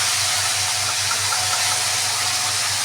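A ground paste of white and black mustard seed, cumin, dried and green chilli hits hot oil in a pan for a silver carp fish curry, giving a loud, steady sizzling hiss over a low hum.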